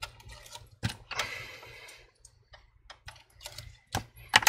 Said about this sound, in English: let's go ahead and peel off the tape